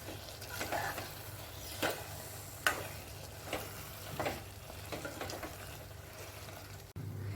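Chicken roast masala fries with curry leaves and coconut oil, giving a low, quiet sizzle under intermittent spoon scrapes and taps against the pan, with a sharp knock near the middle and a sudden brief dropout near the end.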